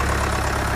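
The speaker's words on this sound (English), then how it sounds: "I better start the tractor up" A tractor engine idles close and loud, a steady low rumbling drone with no break, on a rural property where logs are being split.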